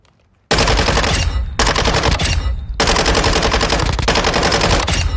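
Automatic gunfire in Modern Warfare 2 from a modified weapon, loud rapid bursts starting abruptly after near silence, with two brief pauses between long sustained strings of shots.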